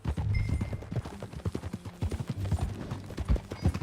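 Horse hooves clip-clop in Red Dead Redemption 2, a quick, uneven run of close, distinct thuds on hard ground heard on their own at moderate volume.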